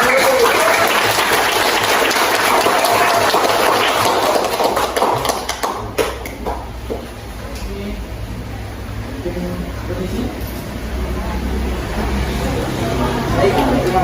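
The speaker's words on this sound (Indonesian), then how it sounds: "Berikan tepuk tangan dulu." An audience at a school debate gives loud, sustained applause, a dense wash of many clapping hands that eases slightly midway and then swells again.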